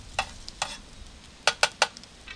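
Bacon frying in a pan at a campsite by a lake: a low background crackle broken by five short, sharp scrapes or clacks of a utensil against the pan, close by, with no talking.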